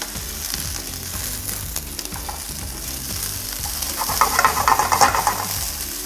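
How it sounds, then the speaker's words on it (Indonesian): Fried rice stirred in a hot pan with steady sizzling, rhythmic scraping and stirring strokes running throughout, growing louder and busier toward the end, with no talking. "Kita aduk lagi."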